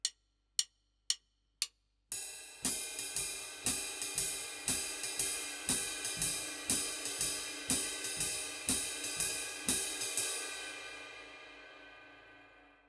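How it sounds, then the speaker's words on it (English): Very soft feathered bass drum thumps on steady quarter notes in a jazz practice setting, a few isolated hits first, then a faint low pulse beneath brighter ringing cymbal strokes that fade out at the end. "you're gonna play your bass drum as quiet as you can, as light as a feather"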